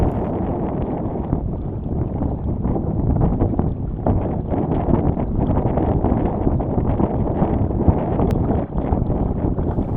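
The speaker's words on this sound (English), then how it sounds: "So good increase in wind here." Wind roars steadily across a Potter 15 sailboat, a continuous loud buffeting rush on the microphone with water and hull noise mixed in, unbroken from start to finish.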